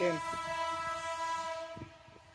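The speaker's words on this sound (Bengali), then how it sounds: "এই যে ট্রেন যাচ্ছে, ইন্টারসিটি ট্রেন, বিজয় express, Chittagong two Jamalpur express, Jamalpur পর্যন্ত।" Bijoy Express, an intercity train on the Chattogram to Jamalpur route, sounds a loud sustained horn as it approaches. The harmonic blast holds for about a second and a half and then cuts off, leaving rolling wheel and track noise close by.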